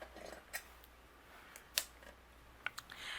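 Scissors snip through gold cardstock during cardmaking, giving a few sharp, close clicks and crisp cuts spaced irregularly against a quiet background.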